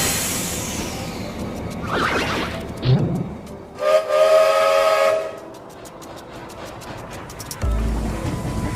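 A train whistle in the World of Final Fantasy video game sounds as a loud sustained tone midway through, set among rumbling rail and water-like ambience with bursts of noise before and after, with no talk.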